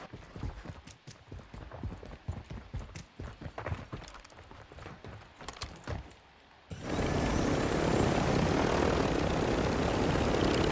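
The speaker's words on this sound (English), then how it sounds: "Chopper." A helicopter in the Call of Duty video game arrives as a sudden loud, steady rotor and engine roar that fills the final four seconds, following a stretch of rapid gunfire and game noise.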